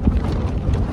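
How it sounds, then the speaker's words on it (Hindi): Strong wind buffets the microphone at a night campsite in Himachal Pradesh, a loud, continuous low rumble with gusty surges. "बहुत तेज़ हवा है।"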